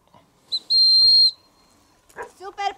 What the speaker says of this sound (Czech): Hodně zapískej.